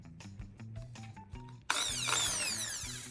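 A power drill bores through a wooden dowel held in a vise, starting with a few short stuttering trigger bursts, then a sudden loud, sustained whine with rising and falling pitch sweeps as the bit bites, close up.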